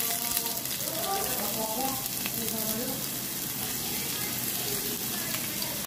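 Garlic and onion fry in a pan with a dense, steady sizzle that runs throughout, close and fairly loud, with faint voices murmuring underneath.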